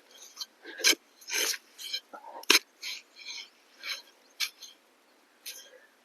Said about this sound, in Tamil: இப்படி நோண்டிட்டு இருக்கேன் பாருங்க.